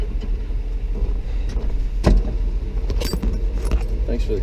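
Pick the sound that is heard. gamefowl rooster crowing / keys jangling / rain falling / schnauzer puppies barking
keys jangling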